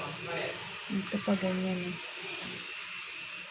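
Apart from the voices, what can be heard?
blower drying corn husks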